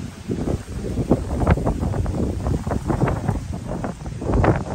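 Gusty wind buffets the microphone in continuous rumbling bursts at a resort pool, loud and close, with no other clear sounds.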